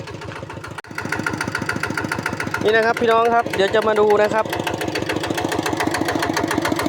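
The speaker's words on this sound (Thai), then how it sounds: "รถไถเดินตามนะครับ จะเอาย้ายรถไถเดินตามนะครับ" A small diesel walk-behind tractor engine idles with a steady rapid chugging throb, loud and close, while someone speaks over it.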